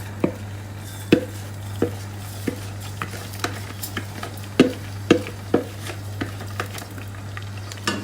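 Rice is stirred in the oil left from frying onions for koshary, with spaced clinks and scrapes of a spoon against the pot over a faint sizzle and a steady low hum, no talk.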